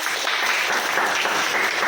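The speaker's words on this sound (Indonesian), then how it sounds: "Beri tepuk tangan untuk kelompok 4." Classmates clap for a student group during a floor gymnastics PE lesson, a steady, close wash of applause filling the short moment without pause.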